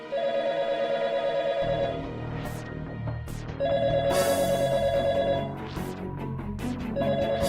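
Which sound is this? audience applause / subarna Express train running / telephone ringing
telephone ringing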